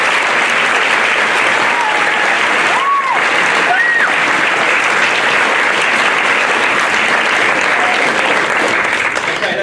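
Steady, loud audience applause fills the hall for the production team of a British School Muscat staging of The Match Girls, sustained clapping throughout with faint crowd noise.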